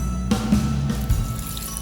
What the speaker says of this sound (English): we're gonna pour another batch of cold, clean water into our bowl